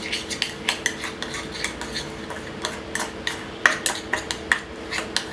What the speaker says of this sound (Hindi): लगभग 1 चम्मच शहद इसमें डाल लें, और इसको मिक्स कर लें।